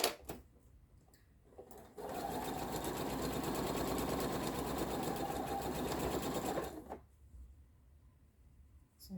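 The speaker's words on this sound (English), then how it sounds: "So again, we're chain piecing" A domestic sewing machine stitches a continuous run of straight quarter-inch seams while chain piecing quilt blocks, a steady close whirring burst of about five seconds with quiet pauses before and after.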